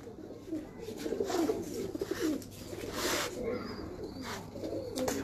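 Pigeons coo in a loft, repeated throaty rolling calls overlapping at close range with a few sharper chirps and rustles; a low hum sits underneath and faint voices may be present.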